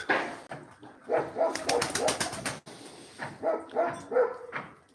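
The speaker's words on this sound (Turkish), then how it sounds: "Hepsi bu alacağımız kuşların hepsi." Pigeons kept in a room of a house coo and flutter close by, with several repeated calls and a burst of rapid wingbeats, while dog-like barks and bird sounds overlap in the background.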